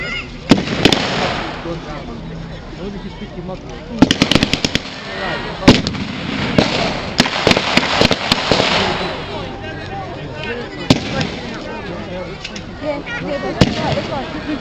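Bursts of Vickers machine-gun fire and loud blasts ring out across a battle re-enactment at a V.E. Day show, crackling in repeated volleys over a sustained outdoor roar of battle noise.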